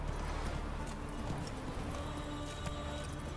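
A horse's hooves clip-clop in The Witcher 3: Wild Hunt as the horse slides down a slope, faint rhythmic hoofbeats over a low ambient bed.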